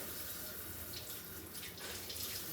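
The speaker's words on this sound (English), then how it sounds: "I'm gonna wash my hands because I just touched it." Tap water runs steadily into a kitchen sink while someone washes their hands before preparing steamed fish. It is a constant close splashing hiss that continues throughout, with no other sound over it.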